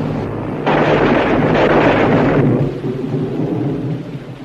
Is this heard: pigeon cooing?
no